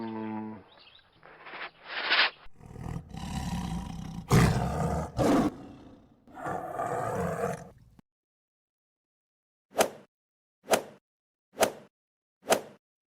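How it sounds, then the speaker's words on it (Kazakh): A tiger roars in several loud, long bursts during the first eight seconds, then falls silent before four short, sharp sounds spaced about one second apart. "Жолбарыс."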